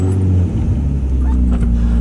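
A Nissan 350Z engine catches and settles into a loud, steady low idle rumble, close by with no voices over it.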